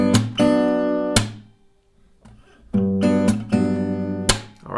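Acoustic guitar strumming pattern of a bass note answered by top-note strums and percussive slaps on the body, bright chords ringing close with a short pause partway through and no voice.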